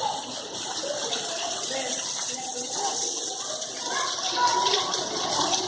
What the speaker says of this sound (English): And there's a neat little waterfall.